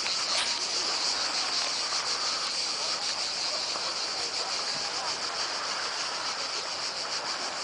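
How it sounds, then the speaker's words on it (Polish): A constant, high, buzzing chorus of cicadas shrilling without a break in Baska Voda, Croatia, in July, steady and fairly loud, with a faint rustle underneath. "a tu cykaczki cykają"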